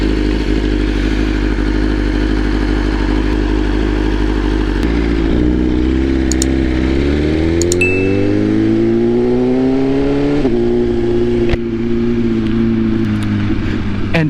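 A motorcycle rides steadily with a loud, close engine drone that holds, then rises in pitch as it accelerates and settles into a higher hum, with wind noise throughout.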